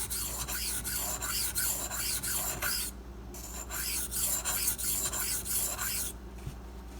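A Ganzo FH51 folding knife is drawn again and again across a 400 grit silicon carbide stone on a Razor Edge System angle guide, giving loud, rhythmic gritty rasping strokes, close up, with a brief pause midway and no voices.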